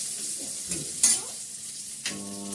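Tomato sizzling and frying in a hot pan, with a few scraping stirs and clinks of a spatula against the metal.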